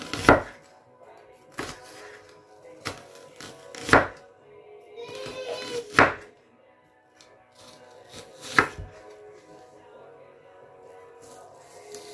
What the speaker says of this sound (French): je vais couper tous mes oignons